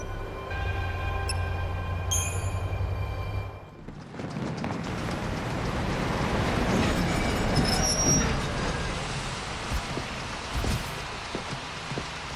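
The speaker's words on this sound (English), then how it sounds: "The train will leave shortly." A train pulling out in Lightning Returns: Final Fantasy XIII: a steady engine hum with a few high chimes, then a loud rushing rumble of moving cars with metallic wheel squeals that goes on to the end.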